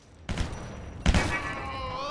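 Gunfire in the video game Stranglehold: two sharp shots a little under a second apart, the second followed by a brief metallic ringing, fairly quiet overall.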